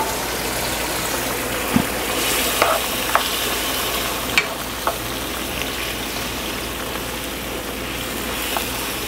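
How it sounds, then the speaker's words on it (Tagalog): Chicken adobo with liver and gizzard simmering gently in its broth, a steady low bubbling hiss with a few faint clinks of a utensil scattered through, no voices. "Hayaan natin lang siyang kumulo ng very light."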